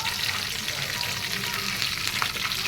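Curry leaves and coriander dropped into very hot oil, a dense, loud, continuous crackling sizzle right up close, with no talk over it.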